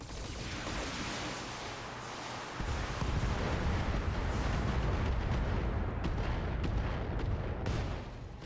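A precision-strike headshot with gunfire in a video game, heard as a steady roar of battle noise that jumps louder midway into dense, rumbling fire and a few sharp cracks toward the end, with no talk.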